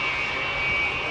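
Avro Vulcan bomber touching down at an air show, a loud continuous roar of jet engines with a steady high whine, filling the whole moment without a break.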